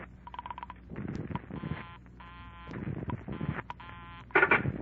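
Telephone dial tones sound in quick bursts of steady beeps, several separate keyed sequences with pauses between them, over a faint background in an old radio detective drama.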